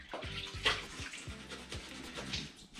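Motorbike helmet padding being scrubbed in water, with rhythmic wet rubbing and sloshing strokes repeating close by, and no talk.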